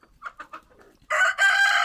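Chickens in a small nursery coop give several soft, short clucks, then a loud, sustained crow or squawk close by, with no talk.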